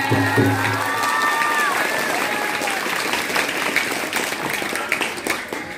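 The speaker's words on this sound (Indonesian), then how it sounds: "mari bertepuk tangan" Audience at an Islamic boarding school madihin recitation contest claps and cheers loudly, a dense wash of applause mixed with shouting voices and some children's cries, steady throughout.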